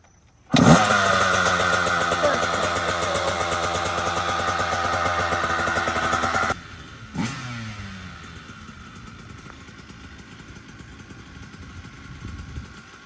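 A Kawasaki KX85 dirt bike engine is kick-started, roars to life loudly and runs steadily for several seconds, then drops to a quieter idle after a sharp knock; the muffler has new packing.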